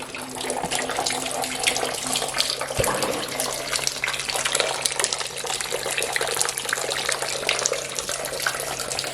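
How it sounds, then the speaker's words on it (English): Coolant drains from the engine of a Volkswagen Golf GTI Mk6 in a steady, splashing gush of liquid, continuous and close, with no talk over it. "I'm draining the coolant"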